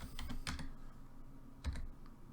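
Computer keyboard typing while entering code, a few quick clustered keystrokes, a pause, then another sharp tap and a couple of lighter clicks, close and clear with no talk.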